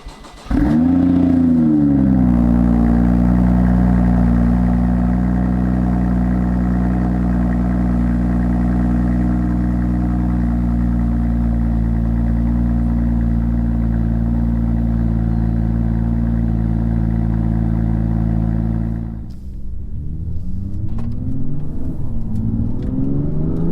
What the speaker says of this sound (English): It doesn't half sound good when it starts up.